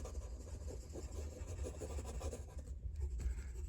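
Graphite pencil shading the wheel of a Ferrari F50 car drawing, a steady, close scratchy rasp of lead on paper running continuously with a low background hum and no speech.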